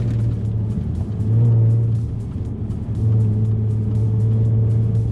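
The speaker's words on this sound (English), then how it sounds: "You can just hear that supercharger starting to whine." A Jaguar XE S with a supercharged engine is heard from inside while driving: a steady, loud engine drone with a thin whine riding over it, rising slightly around the middle as the car pulls.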